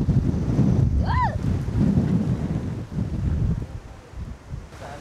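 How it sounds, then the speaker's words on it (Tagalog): Strong wind roars and buffets the microphone continuously at a foggy campsite in Laguna, a deep rumbling gust with rain-like hiss and a brief high squeak partway through. "Pagkalakas ng hangin."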